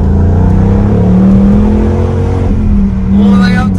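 A 2020 Ford Mustang Bullitt engine revs hard under acceleration toward 7,000 RPM, a loud, close, rising growl with climbing engine tones inside the cabin and no talk over it.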